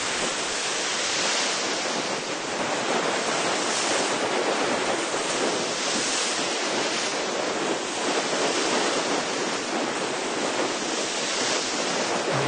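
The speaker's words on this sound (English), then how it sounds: "Quite a lot of water washing over the decks" Heavy waves surge and wash steadily over a boat deck, a loud continuous rushing roar with gentle swells, with no voices.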